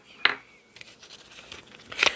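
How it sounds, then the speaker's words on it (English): Delicate, crispy vintage paper tears twice in quick, papery rips, one near the start and one near the end, close and fairly quiet, with light rustling between them. "This paper is really delicate. It just tears so easy."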